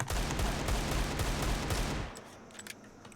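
Rapid sustained gunfire from Counter-Strike: Global Offensive rattles loudly for two seconds, then cuts off, leaving a few faint distant shots.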